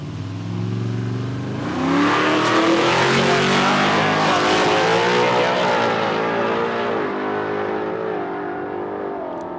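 A Ford Mustang making a drag racing run at Palmyra Raceway, with a loud sustained engine roar rising in pitch as it accelerates and then tapering slightly toward the end.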